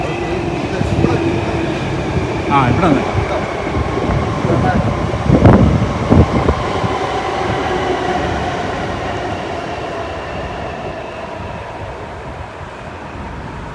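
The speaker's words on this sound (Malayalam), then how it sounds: "ഒരു ട്രെയിൻ പോകുന്നുണ്ട്" A train rumbles past nearby in Melbourne with steady low roar and rattling wheels, swelling mid-way then slowly fading; a voice calls out briefly over it.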